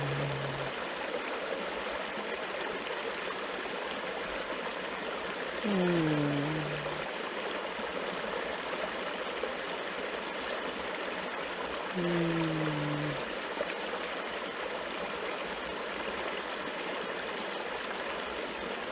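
A gentle flowing stream washes steadily and softly throughout, forming the backdrop of a short guided meditation. Two brief, faint tonal calls rise above the water near the middle and later on.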